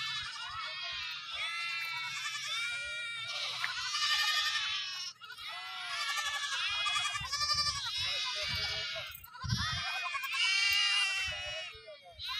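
Goats bleating repeatedly on a farm in long, wavering cries, loud and close, several overlapping calls with brief pauses between them.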